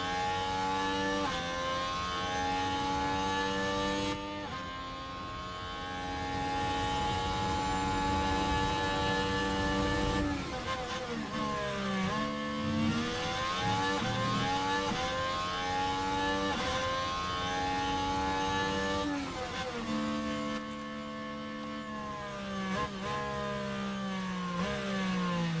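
Red Bull Formula 1 cars race in the F1 Manager 23 video game at Montreal, sustained whining engine tones rising and falling through gear changes, continuous and fairly loud with no talk.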